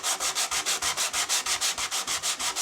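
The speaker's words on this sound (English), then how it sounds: "I think I'm going to try sanding it off and just see what happens" Hand sanding over ink on paper, a steady back-and-forth scratchy rub repeating about every fifth of a second, close and even, with no voices.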